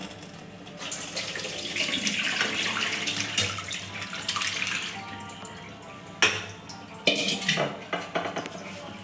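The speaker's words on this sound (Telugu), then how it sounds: "పిసుకొని దీన్ని మనం ఇట్లా వడగట్టుకుందామండి చారు గిన్నెలో" Tamarind pulp squeezed by hand and strained into a bowl for tomato charu, giving wet squelching and trickling liquid sounds, then a few sharp clinks of a utensil against the bowl near the end.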